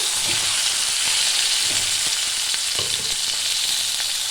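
Sliced pointed gourd sizzles in hot oil in a pan, a loud, steady hiss with soft scrapes and clicks of a spatula stirring now and then.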